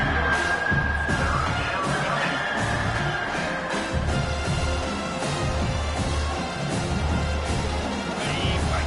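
Football crowd at a stadium scrimmage roaring on third down, a dense, steady wall of cheering and shouting that swells throughout, with faint announcer-style talk underneath.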